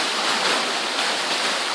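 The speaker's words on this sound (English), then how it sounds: "We just allowed more water to flow." Water rushes down a waterfall in a steady, loud broadband hiss, close and unbroken for under two seconds.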